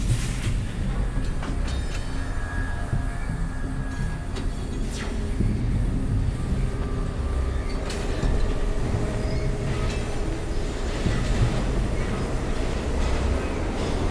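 A subway train rumbles steadily through a station, with a continuous low mechanical roar, metallic rail clatter and occasional brief screeches, fairly loud throughout.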